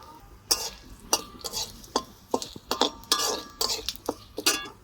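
Cumin seeds, a dried red chili and a bay leaf frying in hot oil in a pan, with sharp metallic clinks and scrapes of a spoon stirring over a soft, low sizzle.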